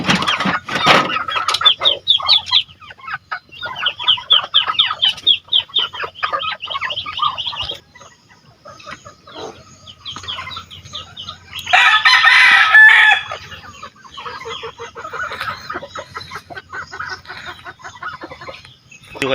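Chickens on a Filipino farm cluck busily while a rooster crows loudly nearby, with the flock's chatter continuing around it.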